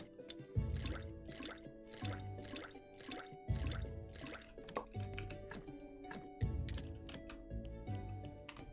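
Water dripping and splashing onto the ground in Graveyard Keeper, a quiet run of irregular wet drips and squishy splats repeating in short clusters with soft tapping between them.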